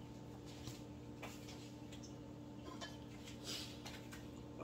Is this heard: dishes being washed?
yes